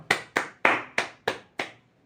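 Six loud, evenly spaced hand claps, close by, steady in rhythm with brief silences between each.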